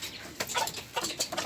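Chickens in a small backyard poultry pen cluck at feeding time in a few short, faint bursts over quiet background noise.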